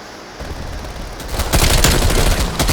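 Gunfire in the video game Call of Duty Cold War comes as a dense burst of rapid, loud shots with sharp repeated cracks. It starts quietly and swells into sustained automatic fire near the end.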